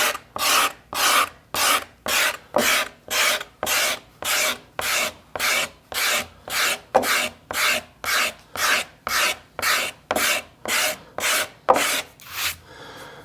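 Rhythmic, close scraping of a wooden archtop guitar plate being hand-carved on the inside, about twenty-four even back-and-forth strokes in a steady pulse with no talk.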